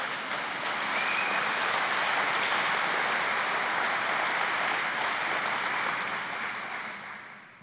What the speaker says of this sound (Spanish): ¿no le quiere dar un aplauso a Dios por ese?